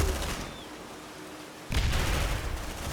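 A grenade detonates in the sci-fi game Aliens: Dark Descent: after a stretch of low rumbling combat, a sudden heavy boom hits and rolls on into a dense, noisy roar.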